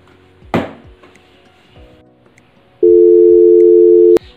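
A steady telephone tone sounds after a call is cut off, a loud continuous hum lasting over a second, preceded by a sharp knock and faint room noise.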